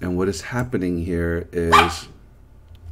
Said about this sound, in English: that was my dog, sorry.